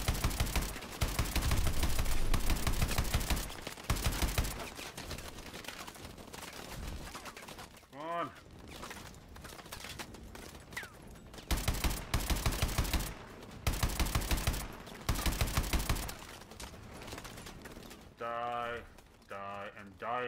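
Bursts of automatic gunfire in the Call of Duty: Advanced Warfare video game, loud and repeated in short volleys with pauses between them, mixed with game effects and brief voices.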